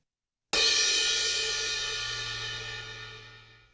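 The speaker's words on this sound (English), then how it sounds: "A crash doesn't really sound very good when you hit it with the tip of your stick" Crash cymbal struck with the tip of a drumstick: a single bright, thin strike after a brief silence, ringing close and alone with a slow, even decay.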